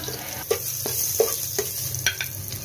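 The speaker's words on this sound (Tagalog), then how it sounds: "Simulan na natin mag-isa ng bawang" Garlic sautéing in a wok gives a continuous close sizzle, punctuated by several sharp scrapes and taps of a spatula against the metal, spaced irregularly.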